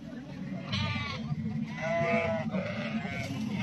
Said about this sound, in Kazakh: Мынандай көп қойдың ішінен